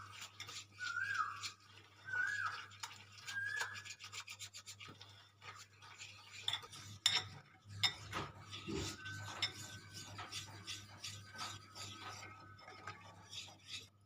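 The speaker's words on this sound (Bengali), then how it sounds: "এটা আমি ভালো করে মেখে, এটা একদম ক্রিমের মতন হয়ে যাবে মিক্স করতে করতে।" A spoon scrapes and rubs steadily around a bowl as cookie ingredients are mixed into a creamy batter, a quiet, rhythmic rasping with occasional clinks against the sides.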